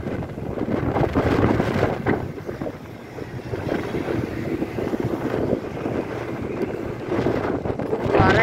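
Strong wind buffets the microphone while cycling on a mountain road between Udhampur and Banal in Jammu and Kashmir, a continuous rushing roar with gusts that rise and fall throughout, loud and close.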